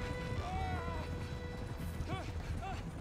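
Horse hooves clip-clop at a carriage pace in Red Dead Redemption 2, mixed with creaking wheels and occasional whinnies under background game sound while someone talks over it.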